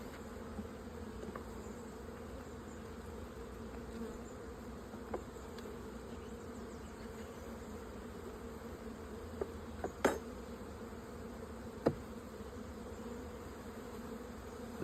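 Honey bees buzz continuously around an open hive, a soft, close, even drone with a few faint clicks and knocks as frames are handled slowly.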